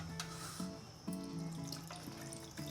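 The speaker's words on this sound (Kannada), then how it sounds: "ಇದಕ್ಕೆ ಸ್ವಲ್ಪ ನೀರು ಹಾಕ್ಕೊಳ್ತೀನಿ." A faint, thin trickle of water pours into a mixer-grinder jar holding ground ragi (finger millet) for a sweet, briefly splashing and gurgling at a soft level close by.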